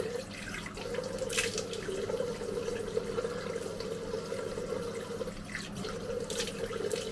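Water running steadily from a sink tap during face washing, a continuous splashing flow with brief louder splashes, close by and heard alone.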